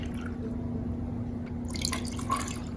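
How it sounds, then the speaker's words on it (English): Lemon drop drink mix is poured into a drink pitcher, a short, faint trickle and splash of liquid over a quiet background hum. "And just pour in your lemon drop mix."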